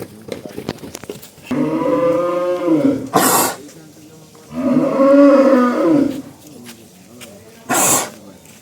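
A seven-month pregnant dairy cow gives two drawn-out, low moos a few seconds apart, close by, with short noisy bursts in between.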